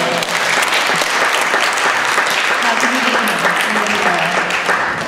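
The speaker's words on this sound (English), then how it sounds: "just give another huge round of applause for Aja and the rest of the defense team" Courtroom supporters at a raw milk trial giving the defense team a loud, sustained round of applause, a thick continuous roar of clapping with voices mixed in.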